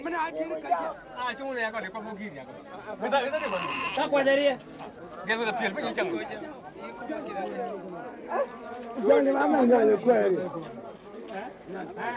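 A goat bleats several times during a Shilluk royal installation ceremony in South Sudan, the animal held as the new king steps over it, with the cries mixed among crowd voices and talk throughout.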